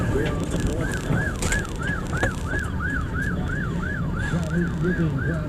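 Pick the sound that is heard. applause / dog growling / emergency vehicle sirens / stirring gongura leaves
emergency vehicle sirens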